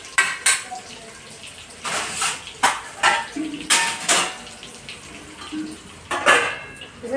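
Metal pot lid and utensils clatter against a cooking pan as a stuffed ridge gourd dish is covered to steam, several sharp clanks and scrapes spaced through the clip with quiet gaps between.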